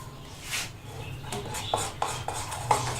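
Fruit cake batter being mixed in a bowl, with a spoon scraping and several light clinks against the bowl's side, soft and close in an otherwise quiet kitchen.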